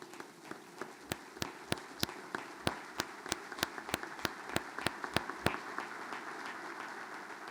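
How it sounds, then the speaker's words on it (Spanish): Slow, regular claps ring out at an event marking the International Day against Illicit Drug Trafficking and Drug Abuse, a steady sequence of sharp hand strikes over a soft, diffuse room background with no talking. "quiero que la recibamos con un fuerte aplauso"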